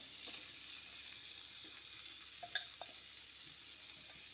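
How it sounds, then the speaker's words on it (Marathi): Ground soybean mixture being sautéed in an oiled pan, a soft steady sizzle with a few clicks and scrapes of stirring near the middle; faint and without speech. "आता आपण हे सोयाबीनचं बारीक मिश्रण करून घेतलेलं आहे ना, ते घालून घेऊया."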